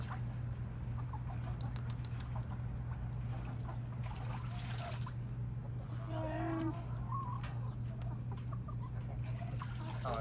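Hens clucking intermittently while being dipped in a mite treatment in a backyard coop, with a steady low hum and splashing underneath and brief soft cackles standing out near the middle.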